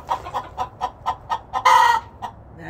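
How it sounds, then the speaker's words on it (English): A hen clucks while laying an egg, giving a steady run of short, evenly spaced clucks that builds to a loud, harsh squawk before one last cluck. The sound is close and clear. "I hear a chicken laying an egg."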